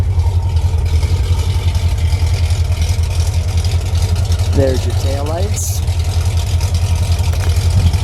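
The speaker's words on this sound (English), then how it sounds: "Let me let you enjoy this idle" A 1970 AMC Javelin Trans Am's deep, throbbing 390 V8 idles steadily up close while someone speaks briefly over it.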